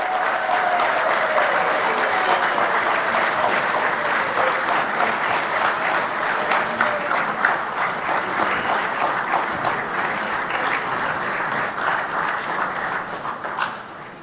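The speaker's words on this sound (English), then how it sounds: "round of applause." A large audience at an official government launch ceremony in Zimbabwe gives a long, sustained round of applause, dense and loud, fading a little at the close.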